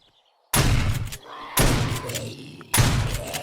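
Shotgun blasts in the video game 7 Days To Die, three loud booming shots spaced about a second apart, each with a sharp onset and decaying tail, no voice over them.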